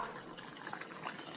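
Room temperature water poured into a cooking pot while preparing steamed sticky rice, a brief close filling gush with no talk.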